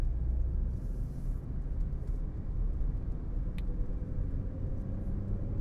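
A car climbs a steep mountain road in New Mexico in second gear, its steady engine drone and road rumble continuous and fairly close, with a faint brief hiss near the middle and no talk.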